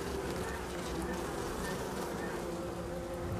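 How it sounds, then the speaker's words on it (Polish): Young, healthy honeybees in an open hive colony hum with a continuous, dense buzz, a close and steady drone with no gaps and no voices over it. "Pszczoły młode, zdrowe."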